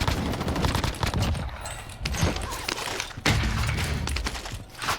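Dense video-game gunfire from STG and MP40 submachine guns, rapid overlapping bursts and thumps filling the whole stretch, loud and continuous.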